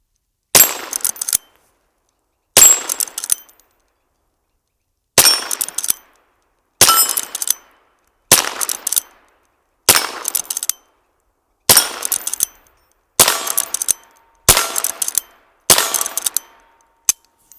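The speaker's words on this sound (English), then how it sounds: "Let me shoot it a few times." A Henry .22 Long Rifle Mare's Leg lever-action fires about ten sharp, close cracks, each followed by a brief metallic lever clack, spaced roughly every one to two seconds with silence between.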